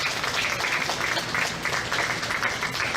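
Audience applause for young exhibitors at a county fair cattle showmanship event, steady dense clapping from a crowd in an arena, moderately loud and continuous with no talk over it.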